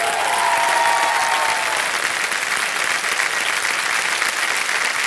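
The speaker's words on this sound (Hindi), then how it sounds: "तालियां बज जाए जोरदार।" Loud, dense audience applause in the studio of the Indian quiz show Kaun Banega Crorepati, sustained and even, with a brief tonal flourish near the start and no voices.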